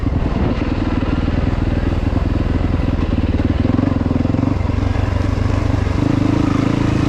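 A 2021 Yamaha YZ450FX dirt bike engine runs steadily and loud while riding at Crow Canyon, its throbbing exhaust note shifting pitch slightly as the throttle changes, with no talk over it.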